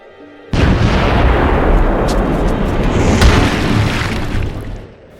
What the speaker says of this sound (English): you shoot one of them with a cannon